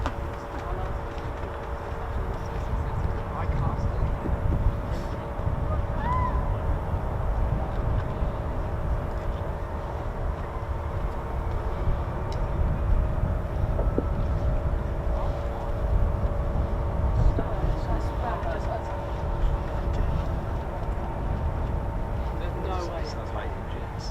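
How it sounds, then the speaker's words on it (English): Jet engines of a USAF C-17 transport aircraft at an RAF base make a steady, low, rumbling roar that holds for over twenty seconds, swelling slightly midway, with no voices over it. "Sound like engines, didn't it?"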